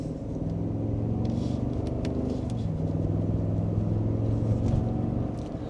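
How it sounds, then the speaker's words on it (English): A 2025 Cadillac Escalade Sport Platinum pulls away under gentle acceleration in sport mode and second gear. Its engine gives a smooth, steady low hum heard from inside the cabin. "Under minor acceleration, and we're up to speed."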